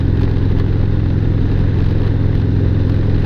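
A 2018 Harley-Davidson Street Glide big-twin cruiser runs nearby with a steady, deep, loping rumble that holds even and loud throughout, with no talking.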